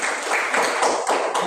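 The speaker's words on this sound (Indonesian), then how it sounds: "Tepuk tangan." Students clap together in a classroom, a brief burst of dense, steady applause at close range with no pauses, lasting only a moment.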